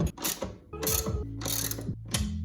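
A ratchet tightens strut bolts on a BMW E36 convertible: four quick bursts of rapid clicking, close and loud, separated by short pauses.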